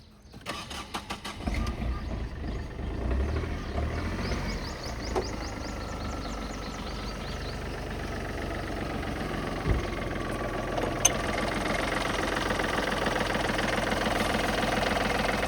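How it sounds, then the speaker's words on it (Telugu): A 2018 Tata Tigor car in original, non-accidental condition cranks with a short burst and catches. Its engine then settles into a steady, close, even idle hum that runs alone to the end. "ఇంజన్ సౌండ్ కూడా చూడండి."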